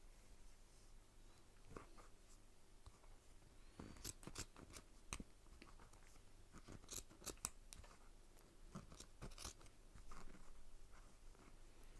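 Scissors snip through excess upholstery fabric in a quiet room, a scattered series of close, crisp cuts in clusters, with no talking.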